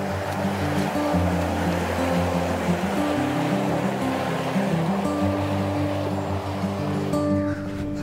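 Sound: River Caldew flowing water

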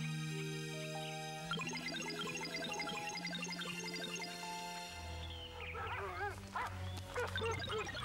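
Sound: many dogs barking in a cartoon

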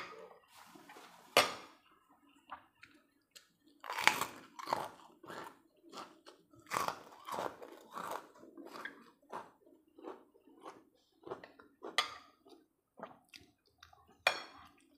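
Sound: people eating and chewing food

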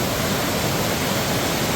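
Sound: roaring river flowing

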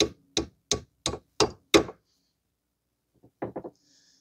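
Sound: hammer tapping out control arm bolt on Mazda 3

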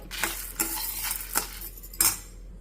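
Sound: toor dal and dried red chillies being roasted and stirred in a pan

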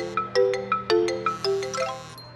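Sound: mobile phone ringing in a classroom

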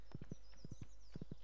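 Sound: horse hooves clip-clop from a video game

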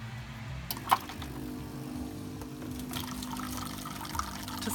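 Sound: Saeco coffee machine dispensing hot water

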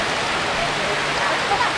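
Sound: rain falling

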